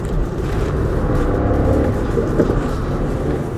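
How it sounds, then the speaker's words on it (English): A 2020 Skoda Rapid Monte Carlo's engine roars steadily at full throttle, a constant broad drone with no voices. "the accelerator is floored, and post 3000 is when the car starts pulling"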